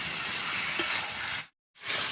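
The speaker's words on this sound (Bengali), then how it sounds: "এবার আবার আমি কষিয়ে নেব" Fried potatoes with spices are sautéed in a pan, giving a steady close sizzle with a single brief clink, then a sudden short gap before the frying resumes.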